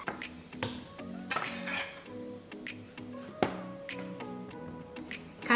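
A knife cuts white mushrooms into quarters on a board, giving irregular sharp taps and clinks with small pauses between cuts, close and fairly quiet.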